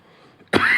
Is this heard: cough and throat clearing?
yes